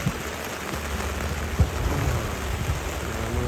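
Heavy rain pours steadily during Typhoon Noru around an excavator, with a low thunder rumble and a sharp thump near the middle, dense and constant with no talk.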